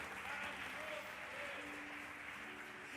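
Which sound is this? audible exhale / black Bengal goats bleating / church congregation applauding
church congregation applauding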